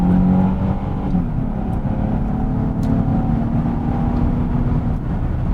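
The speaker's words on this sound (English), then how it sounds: "we're gonna go on a quick drive just to prove that the car is put together and it is on the road" A sports car cruises along a highway at around 60 miles an hour, its steady engine drone and tyre roar holding constant and loud, with a faint higher whine riding on top throughout.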